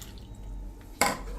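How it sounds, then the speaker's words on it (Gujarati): Hot boiled milk is poured over cashews and makhana (fox nuts) in a kitchen, heard as one brief, close liquid splash after a quiet stretch. "1/4 કપ જેટલું આપણે દૂધ નાખી દઈએ અને આને પલળવા દઈએ."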